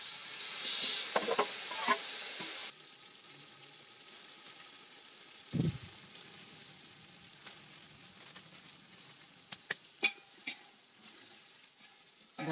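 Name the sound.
onions and tomatoes frying in a pan for gravy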